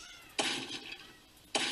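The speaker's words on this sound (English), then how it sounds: "There's the cat, folks." Two short, strained cat meows about a second apart in the PC game Zuma's Revenge, fairly faint against quiet background noise.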